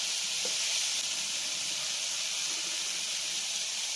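Steak and vegetables fry in butter in a pan, giving a steady, even sizzle and hiss throughout with no talking.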